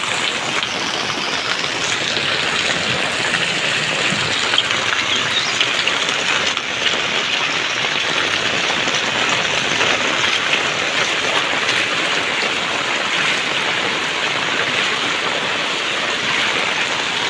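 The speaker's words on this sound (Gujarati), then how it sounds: "ભાદરવાનો વરસાદ છે ને વીજળી પડે છે એક નંબર" Heavy monsoon rain pours steadily in a street while floodwater rushes past, a dense, unbroken wash of noise that stays loud and even throughout, with no voices.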